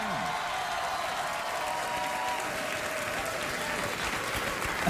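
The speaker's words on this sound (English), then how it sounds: "an Oscar-winning movie star is worth a round of applause" Talk show studio audience applauds an Oscar-winning guest, a loud continuous roar of clapping and crowd noise sustained throughout, with some voices mixed into the din.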